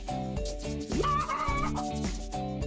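Chickens in a coop give off a run of clucks and squawks, with one rising call standing out midway, over a steady, busy background with no talk.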